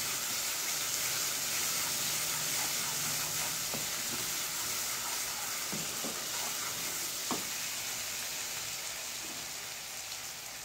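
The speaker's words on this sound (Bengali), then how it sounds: "মশলাটা আমার মোটামুটি কষানো হয়ে গেছে।" Spice masala for a black chicken bhuna sizzles steadily in a frying pan, a continuous hiss with faint stirring scrapes now and then, close and moderately quiet with no one talking.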